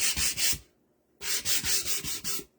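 Hand sanding of a chalk-painted wood surface, close and fairly quiet: quick rhythmic back-and-forth scratchy strokes, a brief pause, then another run of five or six strokes.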